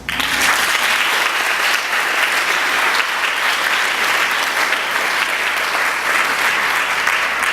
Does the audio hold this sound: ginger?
no